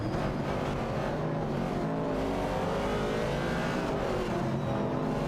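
Race cars, including a Dodge Challenger and a Ford Mustang Boss, roar steadily in an AI racing video game, engines droning loud and continuous as they accelerate together.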